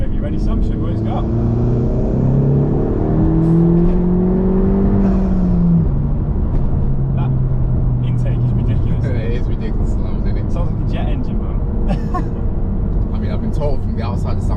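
A turbocharged Honda Civic Type R FK2 engine revs and accelerates with a rising whine, steady and loud throughout, while people talk over it inside the cabin.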